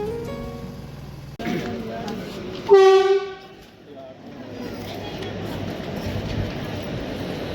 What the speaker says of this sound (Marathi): भुसावळ शेडच्या WAP4 लोकोमोटिव्ह सोबत आपली पंढरपूर निजामाबाद एक्सप्रेस निजामाबाद पंढरपूर एक्सप्रेस पोहोचली आहे बासर रेल्वे स्टेशनवर